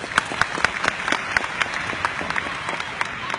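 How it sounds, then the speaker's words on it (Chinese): Audience applause at a live product presentation, steady dense clapping throughout, fairly close and moderately loud, with occasional sharper individual claps standing out. "来，掌声鼓励一下。"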